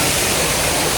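Indoor waterfall fountain in the terminal at Mumbai airport, a steady close rush of falling water that fills the whole brief moment with even, broadband splashing.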